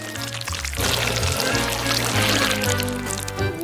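Thick chocolate syrup pouring down steadily in a continuous gushing stream for a few seconds, loud and close, with a low background hum.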